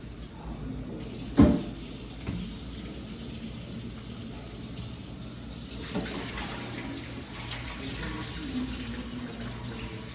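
Cooked pasta noodles rinsed under a running kitchen tap, a steady close stream of splashing water with a sharp knock near the start and a few faint clatters.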